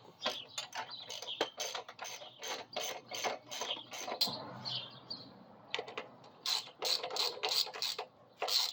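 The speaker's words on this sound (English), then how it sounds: "We'll tighten this axle up." A ratchet wrench tightens a Suzuki-style motorcycle axle after a chain and sprocket change on a Bt200X, with rapid, close, repeated clicking bursts separated by brief pauses.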